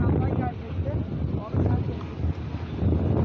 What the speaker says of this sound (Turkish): Dalgalı bir deniz, rüzgarlı bir hava var.